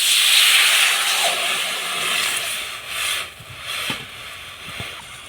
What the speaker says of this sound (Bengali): কড়াইতে একটু জল দিয়ে দিব